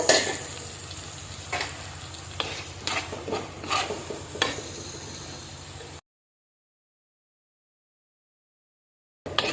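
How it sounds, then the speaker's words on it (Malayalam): Mackerel curry with ground dried black pepper stirred in a pan, soft sizzling with several scraping spoon strokes for about six seconds, then silence and a brief return at the end. "നല്ലപോലെ ഒന്ന് ഇളക്കി യോജിപ്പിക്കുക."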